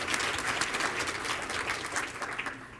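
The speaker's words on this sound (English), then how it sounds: "let's give them another round of applause" Audience applause for speakers at a morning summit session, a steady dense wash of clapping lasting a few seconds before fading slightly at the end.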